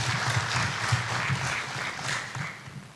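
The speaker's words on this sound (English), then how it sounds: "A warm round of applause to yourselves, you guys." An audience at a business summit claps for a panel in a warm, continuous round of applause, dense and fairly close, with slight swells in intensity throughout.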